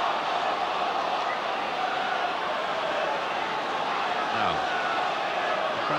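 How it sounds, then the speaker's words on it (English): A football crowd at QPR versus Newcastle United chants "off, off, off" at the referee, a steady distant roar of massed voices with a stadium-wide wash of noise. "Crowd were shouting off, off, off"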